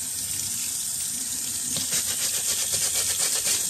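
Tap water runs steadily over lathered, pre-owned shoes being rinsed in a sink, a close, continuous hiss and splash that grows fuller and more agitated partway through.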